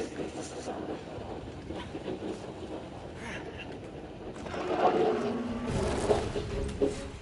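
A train in the video game God of War Ragnarök rumbles steadily along with a broad, continuous roar and faint clattering, growing slightly louder near the end.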